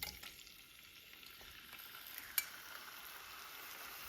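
Mutton liver pieces fry in hot oil on a tawa over a medium flame, giving a steady, soft sizzle with a faint clink partway through.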